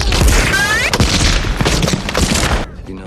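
Bursts of gunfire and booms from a World War II battle film, dense and loud, with rapid shots and heavy thuds running under a narrating voice.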